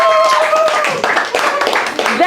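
An audience at a staff debate applauds a team, a short burst of dense clapping mixed with voices talking over it.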